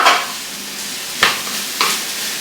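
Rice stirred in a frying pan gives a soft continuous sizzle, broken by two or three sharper scraping strokes from the spoon, close and fairly quiet with no talking.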